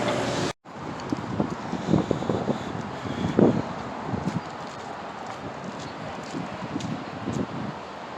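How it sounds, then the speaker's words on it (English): Strong wind gusts buffet the microphone outdoors, a steady roaring rumble with louder surges and some rustling, no voices. "it's obviously still windy as hell"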